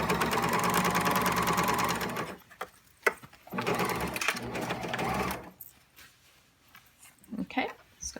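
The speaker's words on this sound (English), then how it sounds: "No matter what you do, you have to finish this seam. So whether you're zigzagging or serging." A serger finishes a denim jeans seam with a loud, fast mechanical whir for about two seconds, then shorter bursts of machine running broken by pauses and handling noises.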